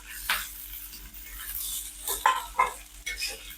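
Garlic added to chili pieces frying in oil in a pan, sizzling softly while a utensil scrapes and stirs in several clattering strokes, close up and alone.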